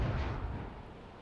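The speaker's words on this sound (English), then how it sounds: "Mortar incoming!" A mortar blast in the pirate naval game Assassin's Creed Black Flag lands as a short, deep, booming explosion that starts loud and fades over about a second.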